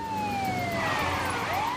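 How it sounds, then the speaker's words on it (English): A police car siren wails steadily in the LEGO DC Super-Villains video game, its tone sweeping down and then rising again over a constant engine drone. "Can we turn the siren on?"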